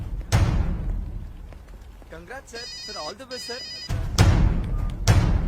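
A phone chimes with an incoming SMS alert, a short run of bright tonal beeps between heavy thuds and rumbling film sound effects.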